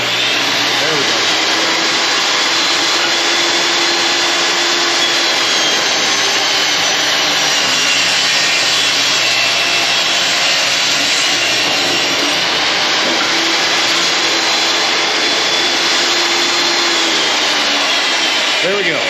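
A saw rips lengthwise through a wooden board while building a decline squat platform, a loud, steady whine running continuously for the whole stretch with little change in pitch.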